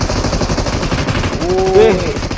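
Rapid automatic gunfire in a video game rattles in a dense, rhythmic burst, loud and close throughout. A voice briefly calls out over the shooting.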